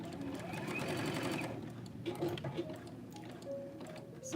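A domestic sewing machine stitches fabric in a steady, fast mechanical whir with rhythmic needle clatter, strongest early and then easing into quieter intermittent clicks and handling noises.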